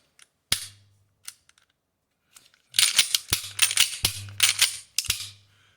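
A Taurus PT111 G2 pistol has its trigger pulled: a few sparse sharp metallic clicks, then a rapid cluster of crisp snaps and clacks, close and dry, with no talking.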